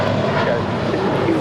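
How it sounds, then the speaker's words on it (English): A JetBlue jet departs Los Angeles International Airport, its steady engine roar filling a short stretch at close, loud level with a broad rumbling wash and no clear rise or fade. "That is JetBlue 1124 departing to New York."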